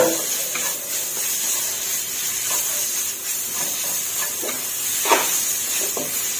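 Pork sizzling in a hot pan while being stir-fried over high heat, a steady frying hiss with scattered crackles and occasional scraping stirs, close and continuous.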